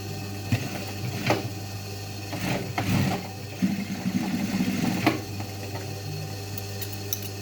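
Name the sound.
sewing machine double-stitching jeans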